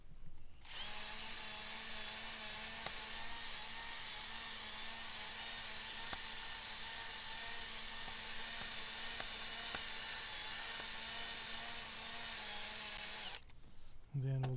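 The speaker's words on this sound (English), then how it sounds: "and then again with the drill." A power drill whines continuously at a steady high pitch for many seconds, loud and close, then cuts off abruptly.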